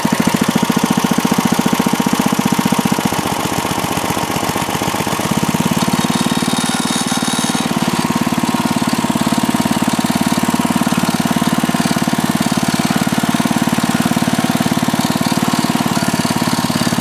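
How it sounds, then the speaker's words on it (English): A 1969 Gilson snowblower engine runs loud and close, a steady, rough mechanical drone with a knocking rhythm. It wavers for a few seconds early on, then settles into an even, unbroken run. "it's a good snowblower though"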